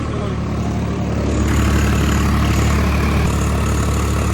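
A tractor, model 855, runs with an 8-foot Shaktiman rotavator attached, its engine giving a loud, continuous low rumble with a steady drone that holds at an even level throughout.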